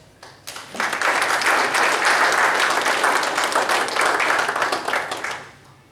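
An audience at an evening talk on a cruising guide breaks into sustained applause that welcomes a speaker. The clapping is dense and steady, swelling quickly and holding for several seconds before it tapers off.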